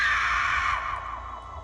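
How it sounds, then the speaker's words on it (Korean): A single shrill scream, sustained and loud at first and then fading out over about a second and a half. "중대장의 이런 질문에 돌아온 것은 외마디 비명소리였다"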